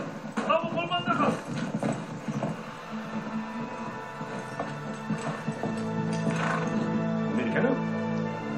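Horses gallop across the desert in Uncharted 3, with clattering hoofbeats and occasional whinnies mixed among game voices and action sounds. The hooves grow louder and steadier toward the end.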